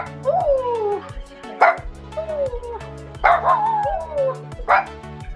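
A new puppy barks and yips repeatedly at close range, sharp bursts mixed with whining tones, with people's voices and music playing under it.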